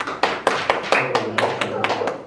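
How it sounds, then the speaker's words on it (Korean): Several people in a church congregation clap in a loose, sparse rhythm, a handful of distinct claps close by rather than a full roar. "격려의 박수를 올려드리겠습니다"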